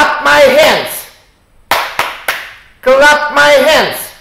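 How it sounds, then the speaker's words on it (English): Three sharp hand claps ring out in quick succession during a children's English action-phrase lesson, set between phrases spoken by a voice before and after. "Clap my hands."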